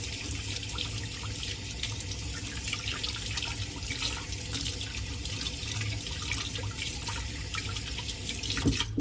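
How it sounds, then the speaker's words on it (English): Hands washed under a running kitchen tap while baking currant scones, with steady close water splashing into a sink throughout and a brief knock near the end. "So let's wash our hands here."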